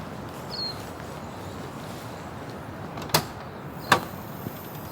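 Back door of a 4WD van opening during a rainy camping trip: two sharp latch-and-handle clunks about a second apart, close by, over a steady hiss of rain.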